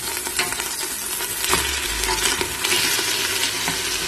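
Goat trotters crackle and sizzle in hot oil in a pan, a dense, loud, continuous frying hiss with scattered pops and occasional stirring clatter, no voices over it.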